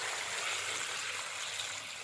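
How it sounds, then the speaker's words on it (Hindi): Water pours steadily into a pot of turmeric on a stove, a soft, even trickling rush that is fairly faint and heard alone without speech. "इसके अंदर अभी पानी शामिल करेंगे।"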